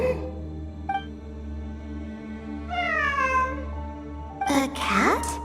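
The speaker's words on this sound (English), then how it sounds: "It really is a cat." A cat meows in two clear rising-falling calls, the second louder and more strained, against a steady low electronic hum, with a faint short tone early on.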